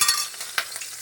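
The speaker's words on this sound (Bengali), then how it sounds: "দিয়ে নাড়াচাড়া করে এগুলো একটু লাল করে ভেজে নেব" Dried red chili, a bay leaf, nigella seeds and green chilies fry in hot oil with a bright, close sizzle and a quick stirring scrape.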